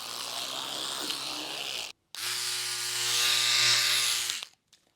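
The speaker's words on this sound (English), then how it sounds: "I'm shaving." An electric razor buzzes in two close bursts, a short one then a longer steady drone with a slight pitch shift, each stopping abruptly.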